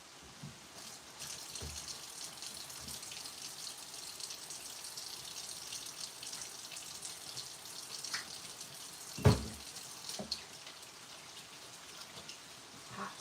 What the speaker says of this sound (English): Need to wash my hands.